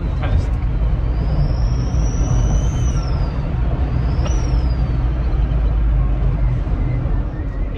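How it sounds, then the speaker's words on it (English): A Smart ForTwo 450 with an aftermarket blow-off valve, driving: two rising-and-falling turbo whistles sound over steady, loud engine and road noise inside the car. "It has the little nice whistle that usually it's very hard to get."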